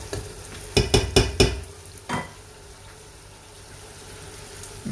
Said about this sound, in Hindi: अब मैं इसमें डालूँगा गोश्त अपना